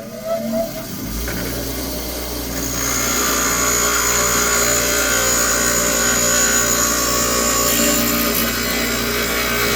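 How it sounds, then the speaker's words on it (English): A grinder spins up and cuts during wheel stud removal, a loud, steady high-pitched whine that starts after a second and holds with a slight rise in intensity, close and without speech. "Now what I'm going to do is I'm going to come over here, turn on my grinder."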